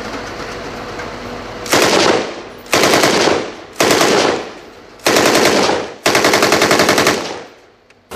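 Close machine gun fire comes in five long, loud bursts, each a rapid rattling string of shots followed by a short pause.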